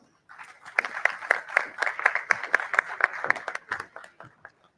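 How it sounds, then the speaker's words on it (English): Sparse applause at a national convention of company secretaries: a small group clapping in a clear, fairly regular rhythm for a few seconds, fairly quiet, without talk. "A huge round of applause."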